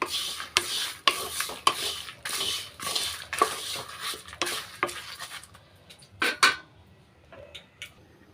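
Black urad lentils roasting in a pan for idli podi give off a steady rasping scrape as a spoon stirs them in rhythmic strokes. It ends with a few sharper clinks of the utensil against the pan, with no talk.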